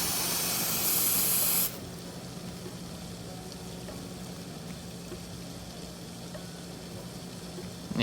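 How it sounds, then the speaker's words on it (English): A loud, broadband spray of water hissing onto a Ford Mustang Mach-E's windshield for about a second and a half, then cutting off, leaving a low steady hum and quiet background. "we're gonna spray the windshield with some water here"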